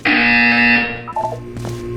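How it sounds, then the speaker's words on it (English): A harsh electronic buzzer from the video game Portal 2 blares loudly for about a second, then fades into shorter tonal electronic blips and game sounds. "You will hear a buzzer."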